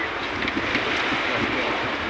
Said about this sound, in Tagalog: magpapandar na sila ng makina